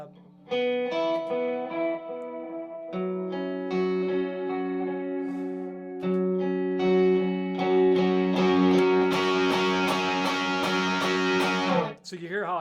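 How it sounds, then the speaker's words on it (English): Sustained distorted electric guitar chords on the bridge pickup ring out, building brighter and grittier over several seconds before cutting off abruptly; no talking. "I'm also going to switch into my bridge pickup so that it bites a little bit more"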